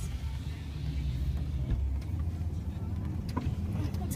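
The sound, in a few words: truck engine while driving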